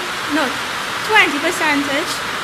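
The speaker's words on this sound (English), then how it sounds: "the noise you're hearing is the rain beating down at the Public Education Centre" Heavy rain beating down at the Public Education Centre hisses steadily in the background while a person speaks over it.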